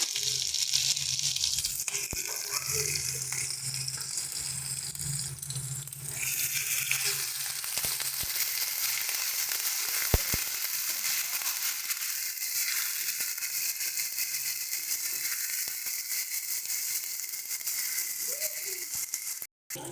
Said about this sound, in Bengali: বাটা মশলা সুন্দর করে ভেজে নিয়েছি।